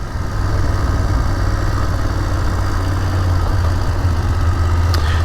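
A BMW motorcycle idles near stupas on a mountain pass in Bhutan, a steady low rumble held close and even throughout, with a faint click near the end.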